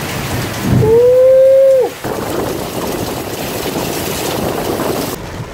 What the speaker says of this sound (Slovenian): Toča.